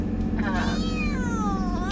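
An orange and white kitten cries from inside a crate, giving a couple of drawn-out, wavering meows over a steady low hum, fairly close and clear.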